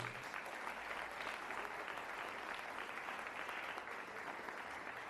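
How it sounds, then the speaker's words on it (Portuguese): A church congregation breaks into steady, sustained applause, a dense even wash of clapping hands at moderate volume continuing throughout, with no voices rising above it. "Você pode aplaudir Jesus?"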